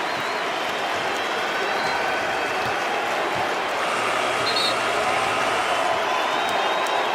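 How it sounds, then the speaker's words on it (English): A home NBA crowd gives a Kobe Bryant tribute during a 24-second shot clock violation, with sustained broad applause and crowd noise filling the arena at a steady loud level. "look at the emotion, the response of this home crowd"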